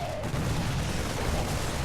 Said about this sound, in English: the tanks are just ripping through the store, and the supporting Marines he had with it